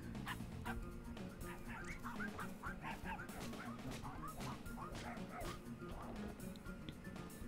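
A summoned dog companion in a video game, with repeated yips, barks and whimpers over a busy, loud game soundtrack.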